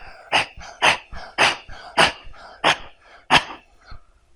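A performer at a wedding party mimics a barking dog with his voice, a rapid run of about eight loud, close yelping barks in an uneven rhythm.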